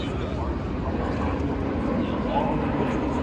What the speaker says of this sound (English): There's a plane. We're really close to LAX, so there's constantly planes flying around here.